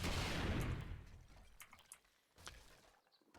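A rocket from a launcher explodes against the terrain in a video game during a material test, starting with a loud blast that decays into scattered debris crackles and small impacts.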